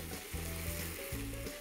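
Bamboo shoots simmer down in a small pan, the liquid cooking off with a steady, close hiss of bubbling and sizzling, broken by a few soft scraping stirs and no talking.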